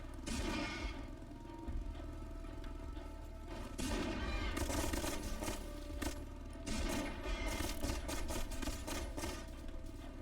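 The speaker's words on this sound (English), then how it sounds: "Machine gun, rapid fire." Machine guns in the video game Laika: Aged Through Blood fire in rapid, continuous fusillades of overlapping shots for about ten seconds, dense and fairly quiet with no talk.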